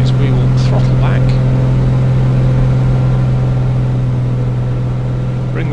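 A simulated Piper Comanche 250 engine in a flight simulator drones steadily and loudly throughout, its even hum holding without a clear change in pitch, with faint voices in the background.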